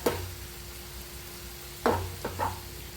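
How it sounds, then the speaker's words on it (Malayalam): Wet sizzling of banana stem thoran stirred in a hot pan, with a few scraping stirs near the end, close and moderately loud, no voices. "ഇനി ഒന്ന് നന്നായി മിക്സ് ചെയ്തിട്ട് കൊടുക്കട്ടോ"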